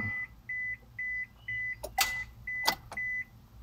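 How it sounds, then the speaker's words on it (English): A 2000 Honda Passport with a no-crank, no-start fault makes a steady run of short, evenly spaced clicks from the starter, heard close up, along with a couple of louder broadband bursts. "you hear now the starter clicks"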